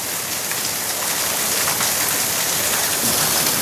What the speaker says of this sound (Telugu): వర్షం ఎందుకంటే చాలా ఫోర్స్గా పడుతుంది కదండి